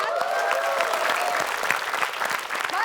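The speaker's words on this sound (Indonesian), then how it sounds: "Boleh kita kasih tepuk tangan?" Studio audience applauding on an Indonesian music quiz show, a steady wash of clapping with scattered cheers and faint voices underneath, filling the whole stretch at even loudness.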